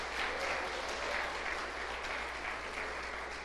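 Steady applause from a church congregation during a sermon, a dense even wash of clapping hands that fills the space at moderate distance and holds without pause.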